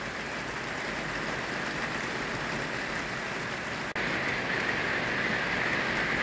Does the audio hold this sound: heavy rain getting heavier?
yes